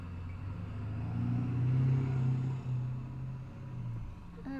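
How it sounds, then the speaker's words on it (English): Cars towing trailers pass by, a mid-pitched engine hum swelling to a peak and then fading, fairly quiet and alone. "Every car carrying a trailer, making so much noise."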